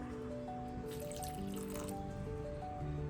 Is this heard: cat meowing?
no